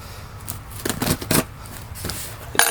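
Old scissors cut open a cardboard booster box, giving a few short rustling snips and scrapes in a quiet room, close by and fairly faint.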